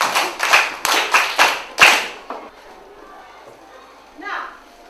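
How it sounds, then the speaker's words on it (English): Children clapping in a classroom, a run of about five quick bursts of applause over two seconds, close and loud, followed by quiet room sound and a brief voice. "Clap for them."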